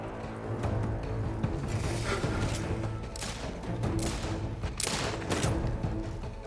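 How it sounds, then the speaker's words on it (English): Sustained rapid gunfire in the video game Outer Worlds 2, a dense continuous fusillade of overlapping shots with heavy booming thuds, loud and close throughout. "What are y'all shooting at?"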